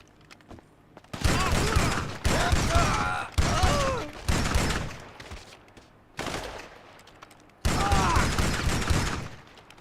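Repeated bursts of heavy automatic gunfire in GTA 5 Online, five loud volleys of a second or more each separated by short quiet gaps, close and forceful.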